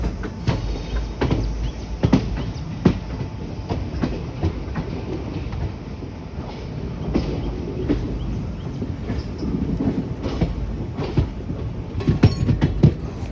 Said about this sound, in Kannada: ಒಂಥರ ಕುದುರೆ ಓಡೋ ಸೌಂಡ್ ಬರ್ತಾ ಇದೆ ನಮ್ಮ ಟ್ರೈನ್ದು.